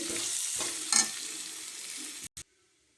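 Mashed boiled potato gets stirred into a frying pan with soft scraping and a low sizzle, close up, ending abruptly in silence after a couple of seconds, no talk.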